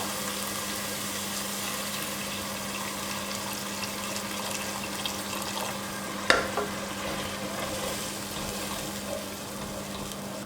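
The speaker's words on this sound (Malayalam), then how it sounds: "ഇനി ഇതിലേക്ക് നമുക്ക് ചൂടുവെള്ളം ചേർക്കാം" Hot water poured into a simmering tomato and egg masala gravy, a steady frying hiss with a low continuous hum, and one sharp clink partway through; no voices.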